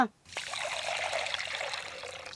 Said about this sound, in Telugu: ఈ బియ్యాన్ని ఒకటికి రెండు సార్లు శుభ్రంగా కడుక్కోవాలి